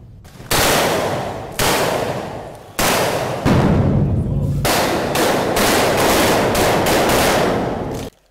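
Blank ammunition gunfire during a military engineering drill, loud bursts of rapid automatic fire coming close together in several long volleys, each cut off abruptly, with a dense rattle toward the end.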